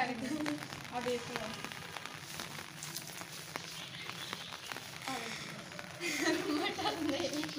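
Rain patters steadily on surfaces outdoors in a village, a dense close crackle with scattered sharper drops. It swells louder near the end.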